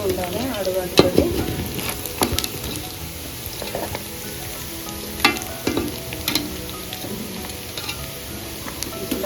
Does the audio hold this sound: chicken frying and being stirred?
yes